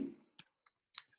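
A few light, sparse keystrokes tap on a computer keyboard as a command is typed, quiet and close with short gaps between clicks and no talking.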